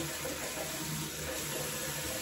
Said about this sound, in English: So first, let's go ahead and get some hot water